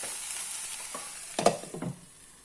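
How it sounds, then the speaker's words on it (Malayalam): Jackfruit taco filling being sautéed in a pan, a soft background sizzle broken by a few short scraping stirs of a spatula near the end, with no voices. "ഇത് വഴറ്റാം, നല്ലോണം വഴലട്ട."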